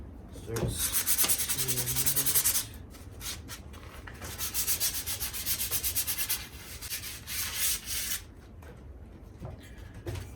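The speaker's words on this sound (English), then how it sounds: "A little bit sanded there, as you guys can tell, a little bit." Sandpaper of 150 grit rubs back and forth over the frame of a Redline BMX bike being restored, in close, rhythmic rasping strokes that come in bursts with brief pauses between them, no talking.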